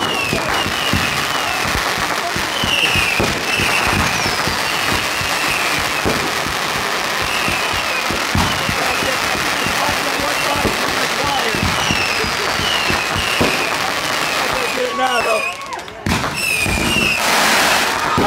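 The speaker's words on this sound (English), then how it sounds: "You just set up my fireworks." Fireworks set off at a 2017 celebration crackle and pop in rapid bursts, with whistling rockets streaking upward and a sharper bang near the end, over a busy outdoor background with people talking.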